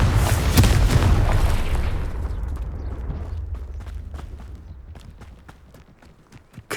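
A Confringo spell in the video game Hogwarts Legacy sets off a loud booming explosion at the start, then the roar slowly rumbles away into scattered faint clattering debris.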